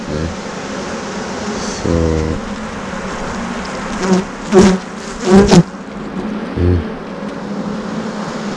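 Honey bees buzzing close by during an early spring hive inspection at sundown, a steady drone with several louder passes as bees fly near, and a brief spoken word.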